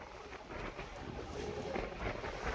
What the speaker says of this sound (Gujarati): વાવાઝોડાના હિસાબે ઓખાના બંદરમાં બધી બોટ આવી ગઈ છે દરિયામાં બહુ તુફાન છે